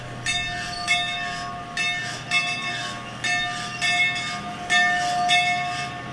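A Northern Star Railroad engine arrives at a Santa holiday parade, its horn sounding in repeated loud blasts over a steady rumble of the train rolling in.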